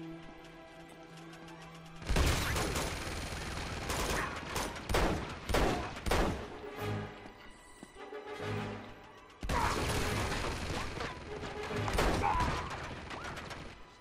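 Bursts of machine gun fire in the video game Uncharted 2, loud sustained rattling volleys with brief pauses between them, mixed with gunfight clatter and impacts.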